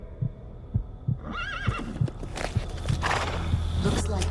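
A horse whinnies in the video game Metal Gear Solid Peace Walker: a wavering, rising neigh stands out over steady low thumping pulses, then gives way to denser game sounds.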